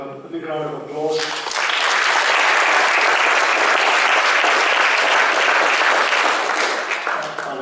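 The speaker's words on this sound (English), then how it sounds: "give him a big round of applause." Audience applauds at an inter-faith friendship group program in New Zealand: a voice talks briefly, then a loud, dense, sustained burst of clapping fills the room and carries on steadily to the end.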